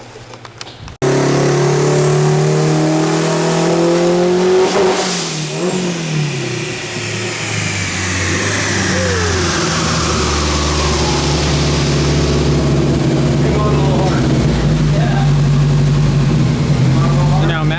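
Turbocharged 600 hp all-wheel-drive Honda Civic engine revving hard on a dyno, loud and close, climbing through the revs with turbo whine and then holding a heavy high-rpm drone.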